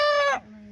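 A rooster gives one short, loud, nasal call close by, which breaks off abruptly into a quiet background.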